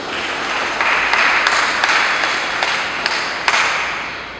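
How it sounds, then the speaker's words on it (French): Clapping from an audience at a church eucharistic celebration, a steady wash of many hands with a few sharper individual claps standing out, moderately loud and sustained throughout. "vous pouvez aussi vous applaudir pour vous-même"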